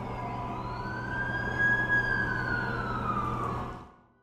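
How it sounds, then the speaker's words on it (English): Ambulance siren in The Amazing Spider-Man 2 video game, a steady wailing tone rising and sweeping in pitch over a low engine rumble, growing slightly louder midway before fading out at the end, with no talk. "That's the ambulance I called."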